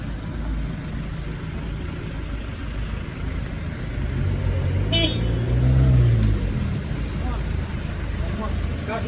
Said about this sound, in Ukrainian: Стой, машина едет.